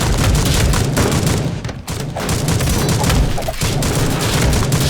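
Light machine gun fire in the video game Madness: Project Nexus, a loud, dense stream of rapid gunshots and booms that continues with only a brief dip.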